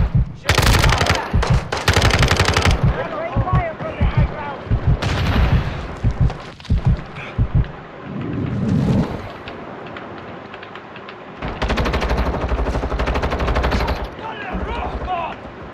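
Bursts of automatic gunfire in the Call of Duty: Modern Warfare II video game, loud rattling volleys separated by short pauses, with voices talking in between.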